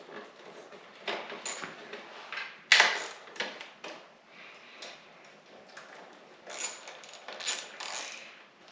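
A hand ratchet loosens 8mm bolts on the tail fender of a 2017 Kawasaki Z650 motorcycle, giving bursts of close clicking and metallic rattles with a sharp clack near three seconds, and no talking.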